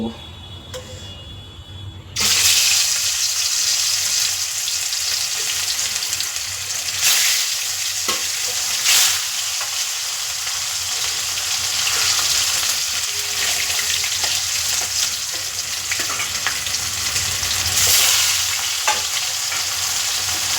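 Salted fish slid into smoking-hot oil: near silence, then an abrupt loud sizzle that settles into continuous, close crackling frying with occasional sharp pops, and a voice talking faintly at times.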